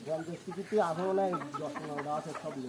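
Several hens at a small chicken farm cluck and chatter up close in quick, overlapping bursts, with a person's voice mixed in among them.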